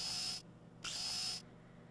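Two bursts of a high-pitched electric drill whine, each roughly half a second long with a short gap between them, boring holes in the video game Deponia, loud and close with no voices.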